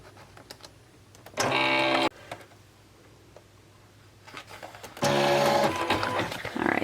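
A Silhouette cutting machine runs a test cut on heat transfer vinyl, giving two bursts of loud motor whirring and buzzing separated by quieter clicks and taps, close by.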